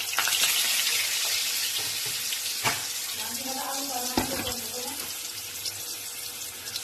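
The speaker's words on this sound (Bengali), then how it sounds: "হলুদ আর নুন দিয়ে আলুগুলোকে ভেজে নেব" Potatoes fry in oil with turmeric and salt, producing a loud, steady sizzling hiss that fades slightly over time, with a brief voice speaking partway through.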